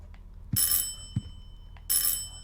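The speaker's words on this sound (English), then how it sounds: "My bell is ringing again." A bright electronic bell rings in two short bursts with a pause between, over a low game soundtrack hum and a couple of soft thumps, in the video game Silent Hill 4: The Room.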